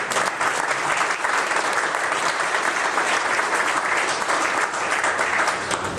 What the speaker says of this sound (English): A big round of applause for the volunteers and my kids